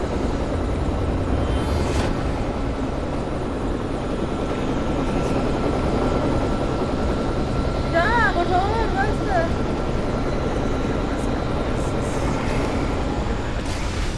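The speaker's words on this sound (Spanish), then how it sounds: "¡Sube al helicóptero!" A helicopter in the video game Alan Wake gives off a steady, loud rotor thump and engine drone through the whole stretch, with players talking excitedly over it.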